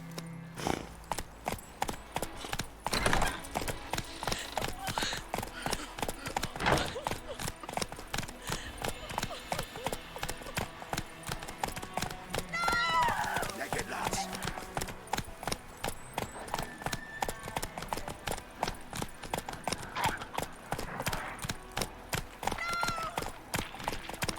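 Geralt's horse Roach galloping in The Witcher 3, a steady rapid clip-clop of hooves running throughout, loud and close, with a brief whinny and occasional speech over the hoofbeats.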